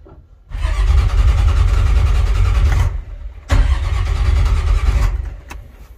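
A fishing boat's engine is cranked but fails to catch during engine trouble at sea: two loud, close cranking attempts, the first about two and a half seconds and the second shorter, separated by a brief pause.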